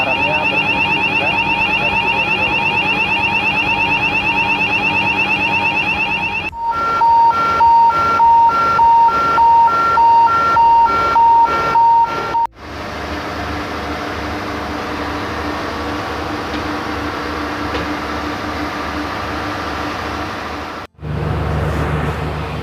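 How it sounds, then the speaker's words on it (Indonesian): CO2 fire-fighting system alarm sounding in a crewboat engine room: a loud continuous wailing tone, then a rapid pulsing beep pattern, then a steady alarm over heavy engine-room machinery drone, close and dominant. "dan kita lihat alarmnya di kamar mesin."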